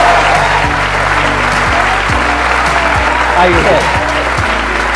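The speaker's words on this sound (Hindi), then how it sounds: "बजाओ ताली।" An audience applauds to welcome a guest onto a talk show stage, a dense steady roar of clapping throughout, with a host's voice speaking briefly over it.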